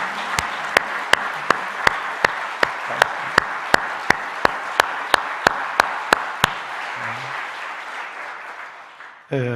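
A church congregation at an early-morning worship service applauds steadily for several seconds, with sharp claps punching through at a regular beat, before the clapping fades and stops.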